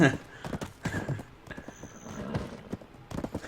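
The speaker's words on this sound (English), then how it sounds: "That's not my horse." Horse in the Black Desert video game, with rhythmic clip-clop of hooves and a whinny at the start, loud and close over a game soundscape.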